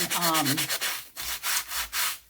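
Repeated scratchy rubbing strokes of a worn sanding block on two-tone cardstock, close and fairly loud, with a brief tonal squeak at the start.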